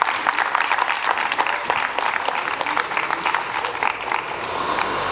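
An audience at a French solidarity festival speech applauds a university chair director in a full, sustained wash of clapping that holds steady and loud throughout, with no voices over it.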